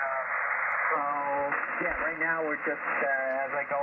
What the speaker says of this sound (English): The static is a little bit harsh, but not terrible.